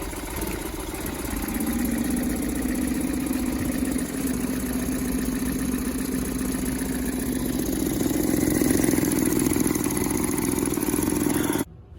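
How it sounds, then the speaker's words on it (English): A Suzuki 9.9/20 hp outboard motor runs steadily with a droning, slightly uneven tone, misfiring after fuel stabilizer trouble, loud and close for about eleven seconds before it cuts off. "My engine's still misfiring."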